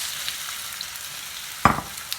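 Steady sizzling of potatoes frying in a pan for a Spanish omelette, with a single scraping clatter of stirring near the end; no voices.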